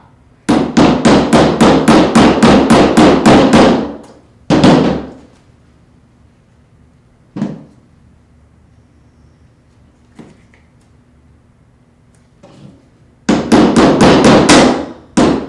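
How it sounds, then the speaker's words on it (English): Rapid bursts of hammer blows, a long fast run of strikes, a short burst, then a few isolated knocks before another quick volley, close and loud. "Gonna have to hammer a lot harder than I thought."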